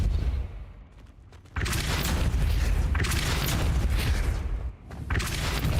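A Depulso force spell cast in Hogwarts Legacy, a heavy booming blast that erupts after a quieter stretch and rumbles loudly, with a second burst near the end.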